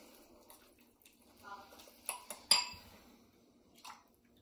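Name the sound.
mixing pulled pork with sauce in a pan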